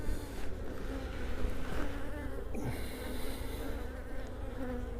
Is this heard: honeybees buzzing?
yes